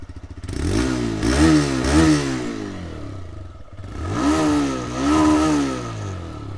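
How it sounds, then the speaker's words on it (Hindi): A TVS Raider 125 motorcycle engine runs with a throaty, pulsing exhaust note, rising in two swells of revving with a brief dip between, close and loud. "इसका एग्जॉस्ट नोट सुना देता हूँ मैं आपको"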